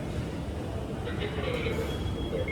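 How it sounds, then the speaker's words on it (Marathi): A Mumbai Metro train rumbles at a station, a loud low continuous roar with a rising whine, while a voice talks over it. "अरे आवाज येतोय ना मेट्रोचा?"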